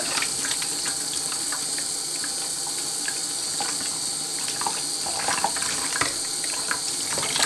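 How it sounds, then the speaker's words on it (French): A small filter part is rinsed under running tap water, a steady close gush with light splashing throughout. "il faut rincer un tout petit peu"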